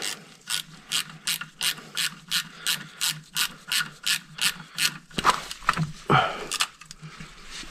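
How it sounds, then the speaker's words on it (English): A ratchet with an 8mm socket threads a bolt into a 2009 Jeep Grand Cherokee 4.7, about fifteen crisp, evenly spaced clicking strokes close up, ending in a few scraping, clunking handling sounds. "normal ratchet and the 8mm. So I could just thread this in all the way."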